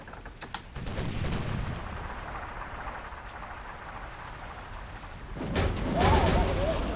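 Ship cannons fire during a naval battle in the video game Pirates!, with a couple of sharp booms standing out over a steady, rain-like wash of sea ambience.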